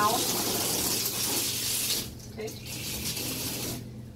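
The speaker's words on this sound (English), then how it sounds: "So you can use this to rinse everything down." Hose spray rinsing down a West sanitizer machine, a steady broadband rush of water that is loud for two seconds, then drops and continues more softly to the end.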